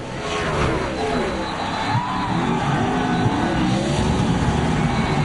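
NASCAR race cars roaring through a big hairpin turn during a broadcast race in Quebec, a dense continuous engine drone with shifting pitch, loud and unbroken, partly under commentary.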